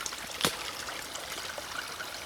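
Water trickles and flows downhill through a garden in a faint, continuous babble, with a single brief louder splash or knock near the start and no talking.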